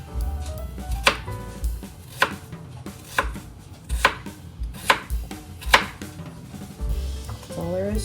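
Knife slicing sweet potatoes on a cutting board, a series of about ten sharp chopping thuds at an irregular pace, close up with a faint voice in the background.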